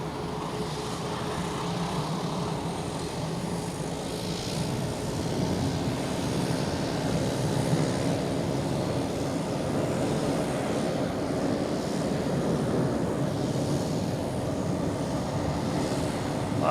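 United Airlines jet departing Boston Logan Airport for Washington Dulles, a sustained jet engine roar that builds slightly and holds steady, heard from a distance over a constant airport background.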